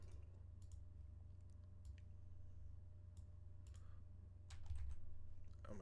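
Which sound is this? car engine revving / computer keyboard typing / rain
computer keyboard typing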